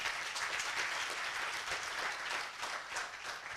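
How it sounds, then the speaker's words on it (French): An audience at an awards ceremony applauds loudly and continuously, a dense, even patter of many hands filling the whole stretch without any voice standing out. "On va l'applaudir très très fort."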